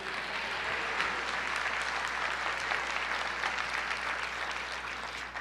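A church congregation applauds during a sermon on the anointing of the Holy Spirit, steady, full clapping from many hands that sounds somewhat distant and holds at an even level throughout, with no distinct voices.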